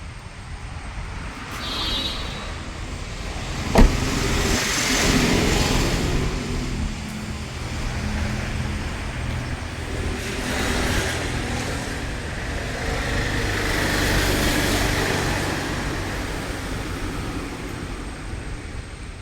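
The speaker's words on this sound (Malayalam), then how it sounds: "ഇവിടെ നല്ല വണ്ടിയുടെ സൗണ്ടാണ് കേട്ടോ" A used Toyota Glanza hatchback sits with its engine running, a steady broadband rumble and hiss lasting throughout, with a brief sharp knock early on and no talking.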